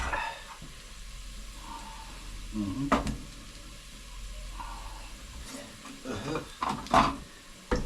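Ricados seasonings tipped into a hot pan, a soft continuous sizzle with a few sharp clatters and scrapes of stirring, close and moderately loud.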